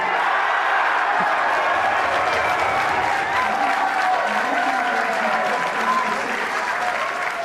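A crowd at the Better Together headquarters bursts into sustained, loud applause and cheering after the Clackmannanshire referendum result, dense clapping holding steady throughout with no break.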